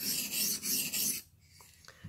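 Knife edge drawn over freshly dressed, clean sharpening stones on a TSPROF Blitz 360 sharpener: three close, gritty rasping strokes, then quiet with a couple of small clicks.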